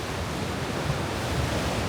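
Rough ocean waves surge through a rocky archway at Bushrangers Bay on the Mornington Peninsula at high tide, a dense, continuous roar of surf with wind noise and no talking.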